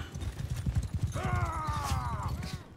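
Horse hooves pound in a rapid, steady gallop in a Mount & Blade II: Bannerlord battle, fairly close, and a horse whinnies partway through.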